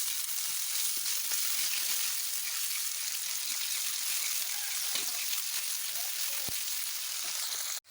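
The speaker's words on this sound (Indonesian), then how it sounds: "Tumis dulu ya bawangnya." Onions and green chilies being sautéed in a pan for spicy green-chili fried noodles: a soft, steady sizzle with a few faint scrapes and clinks, fairly quiet, ending abruptly.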